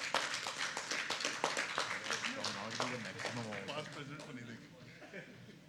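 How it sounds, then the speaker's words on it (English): An audience claps for an award presentation at a business session of a conference, with scattered, uneven claps that fade as a voice speaks over them. "A big round of applause for Gina"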